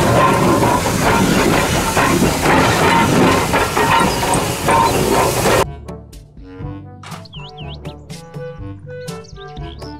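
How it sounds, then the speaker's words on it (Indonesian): A Thomas the Tank Engine toy train hisses and rolls with a loud, noisy steam-like rush for about half the time, then gives way to quieter, tonal whistling chirps and clicks. "Kereta Thomas."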